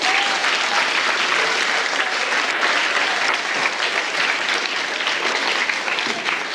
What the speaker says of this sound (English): Round of applause for polonium